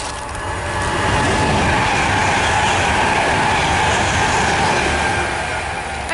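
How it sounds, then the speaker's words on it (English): A train rumbles past nearby in a loud, steady roar that swells and holds, with faint rail clatter and no talking. "Sorry, there's a train going past."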